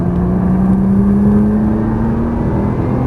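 A Nissan GT-R engine pulls hard under steady throttle on a track, a loud, continuous in-car drone with a slowly rising pitch and no talking.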